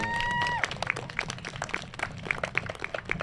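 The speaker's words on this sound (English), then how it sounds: "Y'all can clap for her." An audience at a leadership academy stole ceremony claps in a scattered burst of applause right after a brief tone, the clapping irregular and moderately loud.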